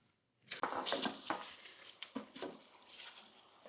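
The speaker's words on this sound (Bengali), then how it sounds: "তারপর চিকেন গুলো দিয়ে দিচ্ছি।" Chicken pieces drop into a pan of spice paste frying with green chilies for chicken roast (rezala), setting off a sharp burst of sizzling followed by steady frying crackle and a few clinks of a spoon against the pan, with no talking.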